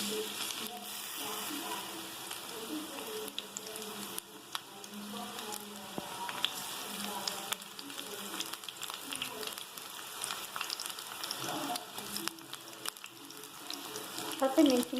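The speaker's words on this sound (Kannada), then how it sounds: "ಎಣ್ಣೆ ಕಾದಾದ್ಮೇಲೆ ಈರುಳ್ಳಿ ಹಾಕ್ತಾ ಇದ್ದೀನಿ" Onions frying in hot oil in a pan for a mushroom masala curry, a steady moderate sizzle with occasional stirring clatter running throughout, a voice talking faintly over parts.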